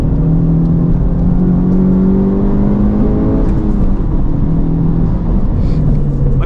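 A Honda Civic Type R FL5 with a COBB 93 tune runs hard on a race track, its engine loud and near, pitch climbing through gears with brief shifts and a steady rushing drone.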